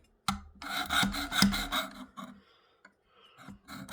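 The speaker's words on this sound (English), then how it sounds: "You're not supposed to sharpen an axe with something like this." An axe edge rasps against the 220-grit belt of a Work Sharp sharpener in a few loud, gritty bursts of grinding, separated by short pauses, up close with no talking.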